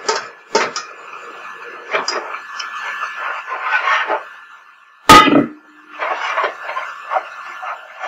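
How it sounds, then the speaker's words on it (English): A whisk works a flour mixture into a pot of just-boiled liquid taken off the heat, with close, irregular clattering and scraping strokes against the pot and one sharp loud knock midway. "get it off the heat, and immediately whisk in our flour mixture"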